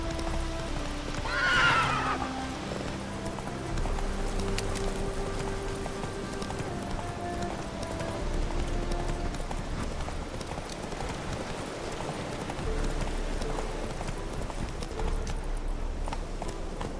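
Roach, a horse in The Witcher 3, gallops with steady rapid hoofbeats, and a loud neigh rings out near the start before the hooves continue alone to the end.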